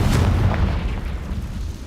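A Confringo spell blast in the Hogwarts Legacy video game lands as a loud, booming explosion with a deep low rumble that starts at once and decays slowly through the short clip, with no voices over it.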